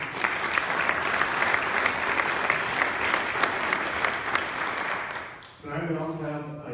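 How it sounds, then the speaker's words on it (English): Audience applauding for Senator Brophy McGee, a steady wash of clapping from a crowd that holds for several seconds, then fades as a voice begins speaking. "So let's give a quick applause to her."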